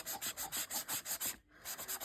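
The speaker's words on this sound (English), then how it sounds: "you just literally take your sanding block" A sanding block rubbing back and forth over a printed surface in steady, rapid strokes, close and scratchy, with one brief pause before the rhythm resumes.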